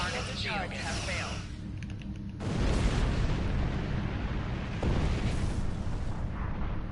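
Torpedo shots blast jamming satellites in a Star Trek space combat video game, a sudden heavy boom rolling into a long roaring explosion, with a second burst near the end.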